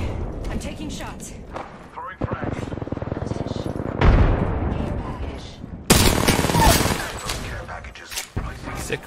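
Rapid gunfire and explosions from a battle royale shooter video game crackle in dense bursts, with a player's voice talking over the shots throughout.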